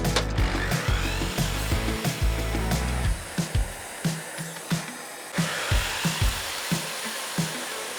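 A power saw cutting small wooden wedges for a canvas stretcher frame, a whining motor with a run of sharp repeated cutting bites and knocks in an uneven rhythm, loud and close.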